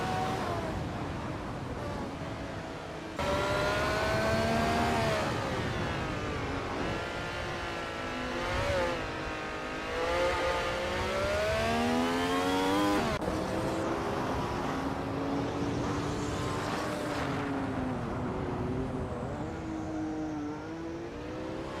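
Race cars in a racing video game, engines revving and accelerating with rising and falling whines, several cars layered, loud and continuous through gear changes, with no talking.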